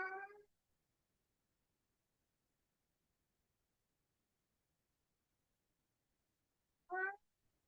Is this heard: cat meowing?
yes